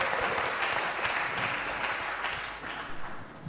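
A church congregation applauds together in a steady, dense wash of clapping that fills the room, tapering slightly near the end.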